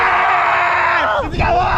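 A group of people on a giant swing scream and yell together loudly and close by, a sustained shared shriek that wavers and dips before rising again.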